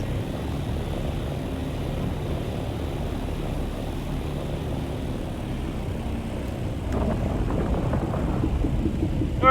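A copter in Dune Awakening flying along with a continuous low engine and rotor rumble that swells slightly louder toward the end, heard alone without any voices.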